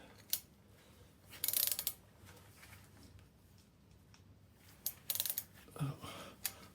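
A 9/16 socket wrench ratchets on the flywheel bolts of a Morris Minor engine, giving faint, close clicking bursts separated by pauses.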